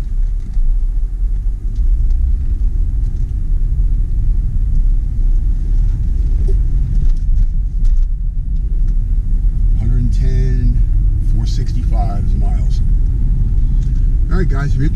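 A 2007 Cadillac CTS with a six-speed gearbox cruises on the highway in sixth gear, giving a steady, loud low road rumble and engine drone that runs throughout, with someone talking over it.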